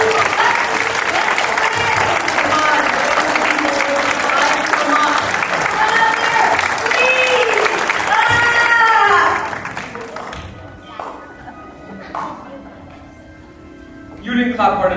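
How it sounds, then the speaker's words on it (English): A theatre audience at a Brothers Grimm stage comedy claps loudly and steadily for about nine seconds under a performer's voice, then the applause fades out and talk continues. "Come on, you clap."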